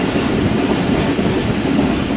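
A train rolls into Okara railway station on an overnight run toward Lahore, giving a steady, loud, continuous rumble of wheels and carriages that holds at an even level without breaks or talk.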